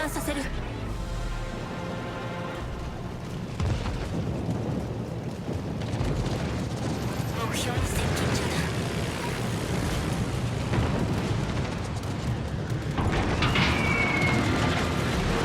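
Bombs from aircraft strike in World of Warships: a constant deep rumble with heavy booming blasts that swell and fade over about fifteen seconds, with excited talk running underneath.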